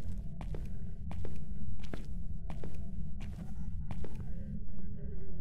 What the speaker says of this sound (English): I can hear the footsteps from really far away